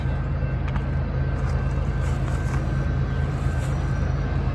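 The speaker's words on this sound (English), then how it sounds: "Think we got a train coming up." A freight train approaching uphill on a long grade out of the Ohio River Valley, a steady low diesel rumble that holds constant throughout, heard from trackside with no talk.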